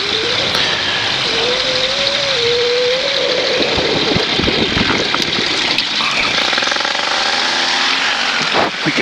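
A small propeller airplane taxis with a loud, steady engine drone whose pitch wavers and shifts, close by and continuous, with no voices over it.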